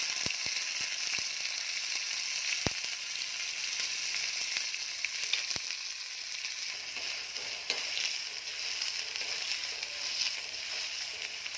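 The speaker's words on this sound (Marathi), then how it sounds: "आता मी त्यामध्ये कांदा घालून घेत आहे" Chopped onion sizzles in hot oil with garlic and green chillies in a pan for pithla, a steady close hiss broken by sharp crackles and a few clicks of stirring.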